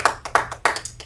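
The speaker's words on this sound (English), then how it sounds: "You can give me some clap" Rhythmic hand claps, three sharp evenly spaced claps with lighter taps between them, close and clear on a podcast set.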